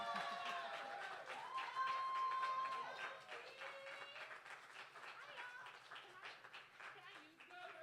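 Audience applause and cheering fill a poetry slam venue, a loud sustained wash of clapping that swells and then thins out under a host's voice.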